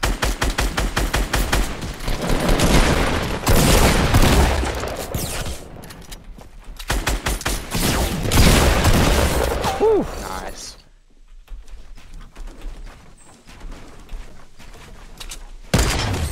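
Rapid bursts of gunfire from a Fortnite match, loud volleys starting and stopping in quick succession, with excited players talking over and between the shots.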